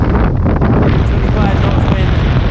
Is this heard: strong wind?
yes